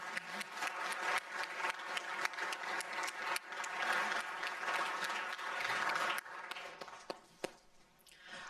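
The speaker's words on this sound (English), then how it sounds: "please give them a round of applause" An audience at a law school clinic symposium applauding, dense clapping that swells and then thins out into scattered claps near the end.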